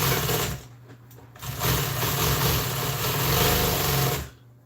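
A sewing machine stitches a custom Polaris seat cover in a long continuous run of motor whir and needle chatter, close and steady, with a short pause near the start before it resumes.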